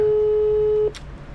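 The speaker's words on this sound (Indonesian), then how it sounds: "Oke, tidak diangkat telepon saya sama mbaknya" A steady electronic telephone ringback tone holds through an unanswered call, then cuts off abruptly. Faint background noise follows.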